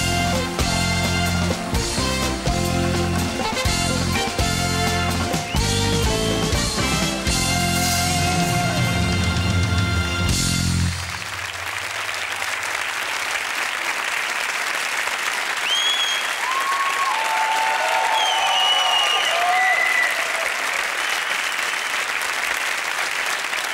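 A TV total studio audience applauds loudly as comedian Ausbilder Schmidt comes on, with strong clapping and a band playing for about ten seconds. After that the clapping carries on alone along with scattered whistles and cheers.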